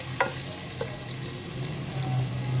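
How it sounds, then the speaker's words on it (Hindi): Garlic ginger paste frying in hot oil, a steady low sizzle with a few faint clicks and stirring sounds close by and no talking. "इसके अंदर मैं लहसुन अदरक का पेस्ट ऐड करूँगी। इसको आपने 1 आध मिनट तक फ्राई करना है।"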